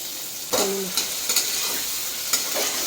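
Oil sizzling steadily in a pan as liver and egg clusters fry, broken by a few sharp scraping stirs and a brief clank of utensil against metal.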